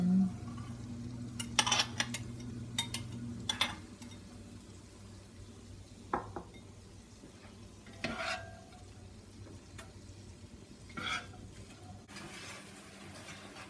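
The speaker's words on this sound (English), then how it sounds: "we're kind of cooking our garlic just a little bit. We're going to start to add in the onion" Chopped garlic and onion cook in a pan with a steady low sizzle, broken by several sharp stirring and scraping clicks of a utensil against the pan, near and fairly quiet, with no talking.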